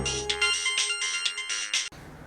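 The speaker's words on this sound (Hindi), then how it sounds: "किसका फ़ोन है?" A mobile phone rings with a melodic electronic ringtone, bright repeating tones in several bursts that cut off abruptly near the end, leaving quiet room tone.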